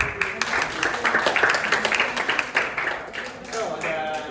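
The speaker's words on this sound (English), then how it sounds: "Give a applause to Alima." A class of students applauds a classmate during a microteaching session, with a brisk run of claps and some voices mixed in before it fades.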